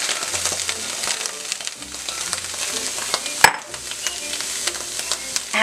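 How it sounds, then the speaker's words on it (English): Pumpkin sizzles in a pan over medium heat, a close, continuous frying crackle with scattered pops and one sharp clatter midway, with no voices. "Ooh, sizzle."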